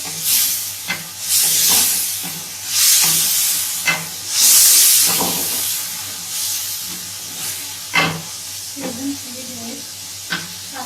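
Chopped green chillies fry in a pan, giving bursts of hissing sizzle that swell and fade alongside intermittent scraping and stirring knocks.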